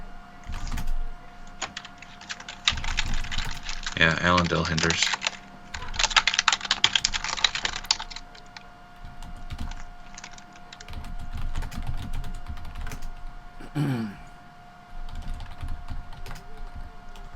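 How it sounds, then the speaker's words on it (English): Rapid typing on a computer keyboard during an online game match, scattered key clicks in short bursts, faint and fairly close, with a few soft words spoken. "He's probably typing something."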